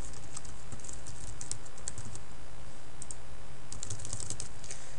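Typing of account login and password credentials on a computer keyboard, a steady run of close, quick key clicks with brief pauses, over a low background hum.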